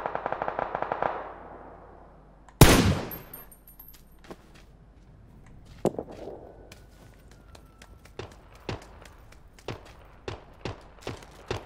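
Gunfire in PUBG: a loud burst of rapid shots opens, then a single sharp crack, followed by scattered lighter clicks and taps at a steady pace.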